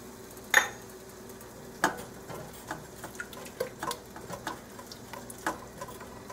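Spoon clinks and scrapes while curry spices are stirred in a pot, a sharp knock followed by a run of light, irregular taps and scrapes at close range.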